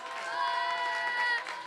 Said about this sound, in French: c'est un tonnerre d'applaudissements pour Monsieur Prestige